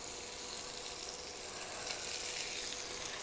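Onion frying in oil in a pan for black pepper chicken, a steady, even hiss and crackle of sizzling that holds at a constant moderate level, with no voices.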